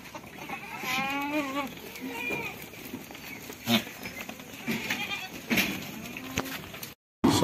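Goats on a farm in Nepal give several bleats, moderately close, with some background noise between calls.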